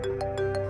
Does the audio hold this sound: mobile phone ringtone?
yes